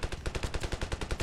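A fast, even burst of machine gun fire in Ravenfield, a World War I-style air battle, with about a dozen evenly spaced shots in a quick rattling rhythm at moderate loudness.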